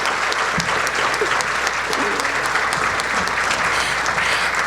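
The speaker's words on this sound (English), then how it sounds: "Please join me in another round of applause for these extraordinary educators as they return to their tables." Sustained applause from a large audience at a Teacher of the Year award ceremony, dense steady clapping filling a hall at moderate distance, with no clear voices on top.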